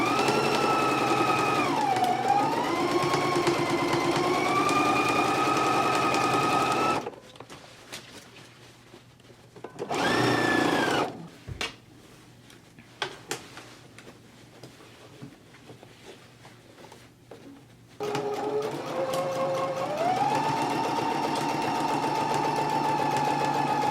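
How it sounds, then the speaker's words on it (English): Close, loud sewing machine stitching the lower band onto a jacket at a 5/8-inch seam, running in long steady bursts with shifting motor pitch, a short pause and a brief burst between. "we can go to the machine and we can stitch it at a 5/8 of an inch seam allowance"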